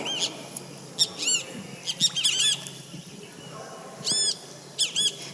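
Recorded call of a great kiskadee (bichofué) played back, several loud, ringing arched whistled notes in short bursts with pauses, repeated over a faint noisy background.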